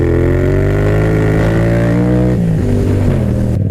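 Yamaha FZ-07 motorcycle engine revving loud and close, a steady harmonic drone that climbs slightly, then drops abruptly as the revs fall and settle at a lower pitch.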